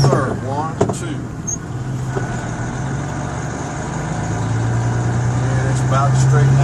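Truck engine pulling a trailer, shifting into third gear, a steady low diesel drone with a gear-change dip and the revs climbing back, under a man's speech.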